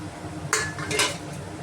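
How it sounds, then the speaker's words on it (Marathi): Fried chicken pieces tumble into Schezwan fried rice in a pan, giving a few close clinks and scraping pan sounds in two short bursts, with no talking. "हे आपण तळलेले चिकनचे पीस टाकतो"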